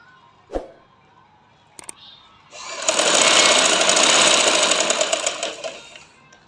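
A sewing machine stitches elastic into a ladies' lehenga: a few sharp clicks and taps, then a rapid buzzing run of stitching lasting about three seconds before slowing to a stop.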